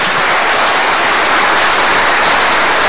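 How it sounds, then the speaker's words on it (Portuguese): Church congregation applauding, dense steady clapping that fills the whole stretch at close range, with no talking over it. "Dê uma salva de palmas a Jesus."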